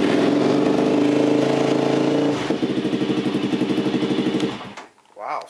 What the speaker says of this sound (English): I haven't started this four-wheeler in a while either